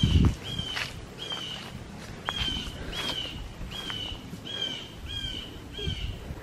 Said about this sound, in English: It's a crow.